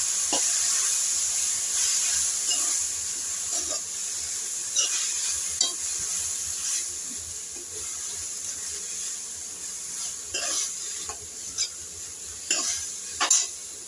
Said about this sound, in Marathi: ह्यावरती हा चिरून घेतलेला कोबी टाकायचा आहे आणि याला छान असे आपल्याला मिक्स करून घ्यायचे